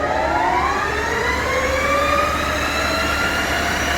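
A Victor 1640B metal lathe spins at its top speed of 2000 RPM, giving a steady, close mechanical whine with rising tones and a low motor hum, and no talk.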